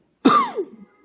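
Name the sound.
cough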